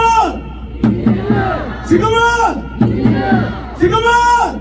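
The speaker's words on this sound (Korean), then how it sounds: "구호 외치고 내려가겠습니다." A rally crowd at an election campaign launch in Gwangju's 5.18 Democracy Plaza shouts a slogan in unison, loud, close chanted bursts repeating roughly once per second in a steady rhythm.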